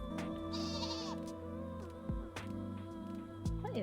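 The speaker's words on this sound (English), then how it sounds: "Get our sheep out." A sheep mount in Final Fantasy XIV bleats several times, wavering, nasal and close, over a steady layered musical drone.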